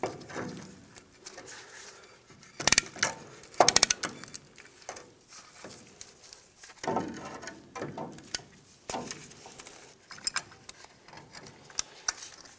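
A brake caliper piston compression tool is worked on a 1992-1996 Ford F-150, giving scattered close clicks, cracks and ratcheting taps with short sharp bursts of metallic clatter between quieter stretches.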